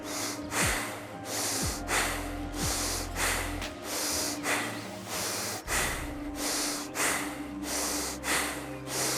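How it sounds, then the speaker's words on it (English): Forceful breathing in and out through the nose, about a dozen sharp sniffing inhales and exhales in a steady rhythm, close and loud with no talk. "With your nose, just with your nose."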